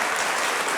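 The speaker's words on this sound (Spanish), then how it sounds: "Sacó aplauso aquí su intervención." Dense audience applause after a seminar panel speech, a steady wash of many hands clapping together, loud and continuous for under a second.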